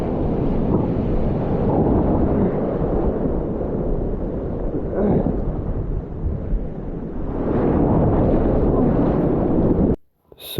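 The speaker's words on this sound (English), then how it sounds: "So that massive wave right there actually pulled the kayak out from under me and pulled it back to the shore." Massive surf crashing toward a Florida shore during big winds and rip currents, a loud continuous roar of breaking water and wind buffeting the microphone, swelling again near the end before cutting off abruptly.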